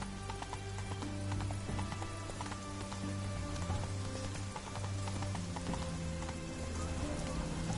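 Horse hooves galloping in The Witcher 3 game, a fast rhythmic clip-clop of steady strides under a soft rain-like hiss, moderately quiet and continuous.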